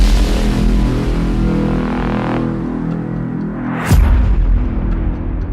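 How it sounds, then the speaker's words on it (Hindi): A carbide gun firecracker goes off with one sharp, loud boom partway through, cutting across a dense roar of background noise. "खास तौर पे एक स्पेशल तरीके का फायर क्रैकर जो इस टाइम पे बहुत ही ज्यादा वायरल हो रहा है, जो कि है कार्बाइड गन।"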